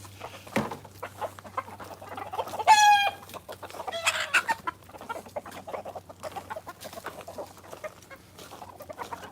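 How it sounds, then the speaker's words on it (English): Farmyard chickens clucking and a rooster crowing outdoors during chores, a sharp squawking burst in the middle among steady nearby clucks and scratching, with a low constant hum underneath. "Chicken don't like Rex"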